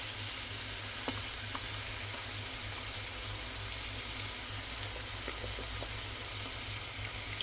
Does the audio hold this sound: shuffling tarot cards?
no